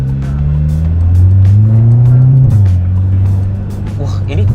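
An Audi S3 Quattro Stage 4 engine revs at quarter throttle, a loud deep drone that rises, peaks and drops back before climbing again, with voices talking over it throughout.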